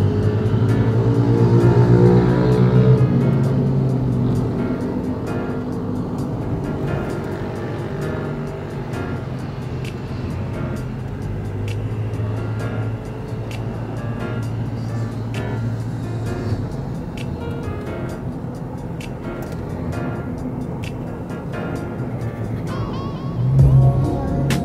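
Toyota Innova with hydraulic mechanical power steering on a test drive, its engine and road noise droning steadily from inside the cabin for the whole stretch, with a brief louder swell near the end.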